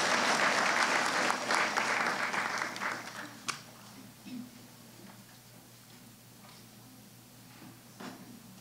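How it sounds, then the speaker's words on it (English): A round of applause for nursing graduates at a pinning ceremony, loud clapping from a crowd for about three seconds that then fades into quieter room noise with a few scattered knocks and murmurs. "I have one more round of applause."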